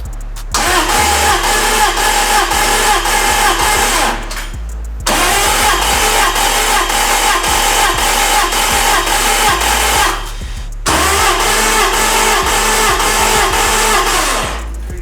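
A Toyota Stout truck engine cranks and catches three times in a row, each time running loud and rough for a few seconds before cutting out briefly and restarting.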